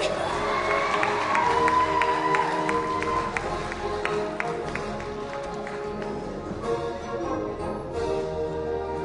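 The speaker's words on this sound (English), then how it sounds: "Please, everyone, give a big round of applause for Miss Talia Canego Wakefield." A crowd at a pageant in the Marshall Islands claps and cheers steadily, with whoops and shouts from children mixed into the sustained applause. The crowd sounds fairly close and the noise holds at an even level throughout.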